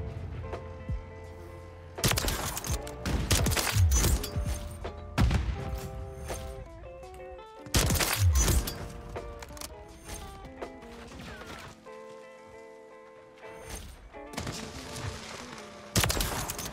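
Bolt-action Kar98k rifle fire in a first-person shooter game, several sharp loud shots spaced a few seconds apart over game sounds and background music.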